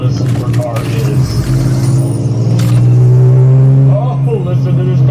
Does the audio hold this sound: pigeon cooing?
no